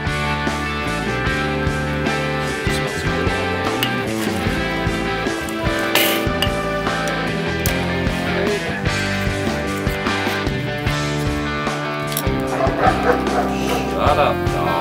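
A dog barks, yips and whimpers repeatedly near an outdoor cooking setup, close and loud over a busy background of music and people talking.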